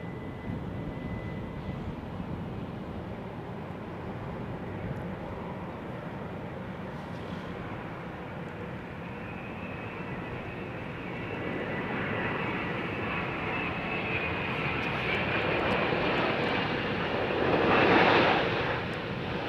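A jet airliner arriving on runway 09L at Heathrow, a steady broad engine roar that swells gradually as it nears, peaking loudly near the end before easing slightly, with no talk.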